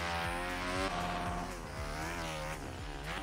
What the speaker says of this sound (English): I love that you can actually hear a turbo engaged on this.